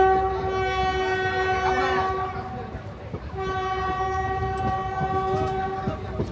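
A Katwa–Nimtita passenger train, number 03059, pulls out with a long, loud horn blast that breaks briefly and resumes, over rumbling wheels and carriage clatter nearby.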